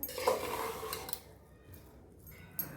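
A spoon stirs masale bhaat, spiced rice topped with coriander, scraping and clinking against the pan for about a second, then faint quiet handling with one last small knock.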